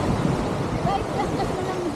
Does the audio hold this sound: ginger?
no